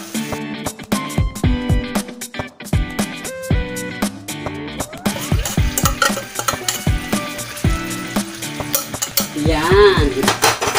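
Tuna and its broth go into a cooking pan and are stirred with a utensil, giving repeated metallic scrapes and clinks against the pan over a soft sizzle. The sound is close and loud, with no talking.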